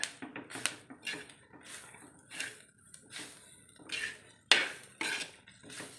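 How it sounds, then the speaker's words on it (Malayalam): Clams and masala are stirred in a frying pan with coconut oil. A utensil knocks and scrapes against the pan in irregular bursts, with short pauses between them. The sound is close but fairly quiet and carries no speech. "ഒന്ന് ഇളക്കി ഇളക്കി ഇളക്കി നമ്മൾ ഫ്രൈ ആക്കി എടുക്കണം"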